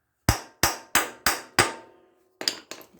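A small hammer taps an oil filter onto a riding mower: five sharp metallic strikes in an even rhythm, a short pause, then three quicker lighter taps, close and clear.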